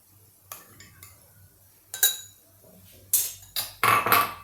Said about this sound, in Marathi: हे दही आता मी या बोलमध्ये काढून घेतलं आहे